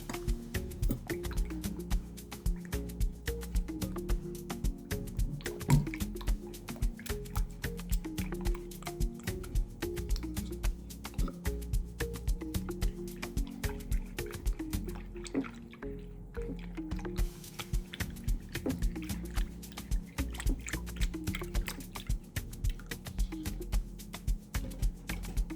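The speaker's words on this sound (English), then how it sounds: "Using my whisk to whisk everything." A whisk stirs a wet, spiced halwa mixture with vanilla, cinnamon, black pepper and cardamom, making quiet, rapid, steady clicking and squishing against the bowl for the whole stretch.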